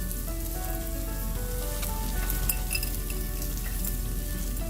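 Okra stir fry with crunchy lentil powder gives a steady, dense crackling sizzle like frying, with faint scattered ticks of pieces dropping into a bowl, continuous and fairly close, with no talk.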